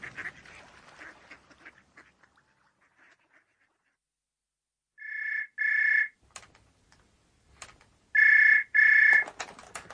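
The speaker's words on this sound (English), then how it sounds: "Colonel Jackson's phone" An old-style telephone rings twice in paired bursts, loud and close, after a stretch of faint background sound and near silence.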